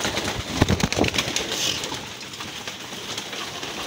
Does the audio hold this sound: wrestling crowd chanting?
no